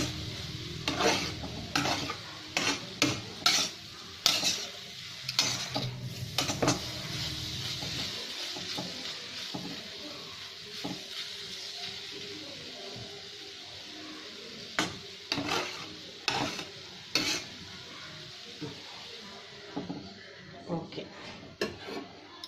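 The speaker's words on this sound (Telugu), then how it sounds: "ఉప్పు వేసేసి బాగా వేయించుకుంటాం" Cluster beans stir-fried with salt in a pan, a steady sizzle under repeated scraping and clinking of a spatula against the metal, louder stirring strokes early and sporadic scrapes later.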